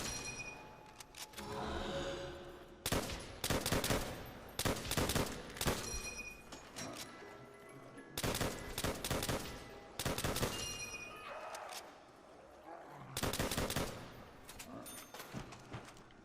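M1 Garand rifle gunfire in Call of Duty zombies on Nacht der Untoten, loud bursts of rapid repeated shots in several volleys separated by short pauses, with game noise between them.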